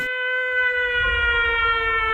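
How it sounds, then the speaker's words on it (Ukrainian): An air raid siren sounds as a loud, steady wailing tone with stacked harmonics. It holds throughout with no voices over it. "Увага! Повітряна тривога."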